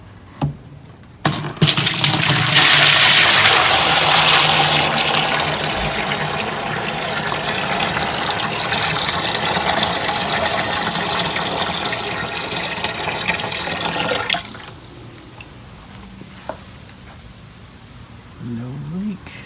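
Water gushes noisily into an Igloo cooler converted to a mash tun for about thirteen seconds, then cuts off abruptly, leaving quieter handling sounds and a brief voice.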